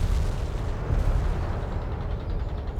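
Heavy artillery and gunfire rumble in the strategy game World in Conflict, a dense, loud, continuous barrage of deep booms and crackling shots with no pauses.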